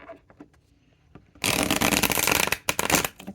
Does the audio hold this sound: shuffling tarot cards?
yes